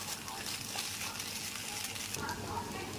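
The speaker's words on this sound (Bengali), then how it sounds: "এবার এটাকে হালকা করে নেড়ে নেবো।" Yeppi veg noodles with fried egg stirred lightly in a pan: a soft, steady scraping and low sizzle that runs quietly throughout, with no clear voice.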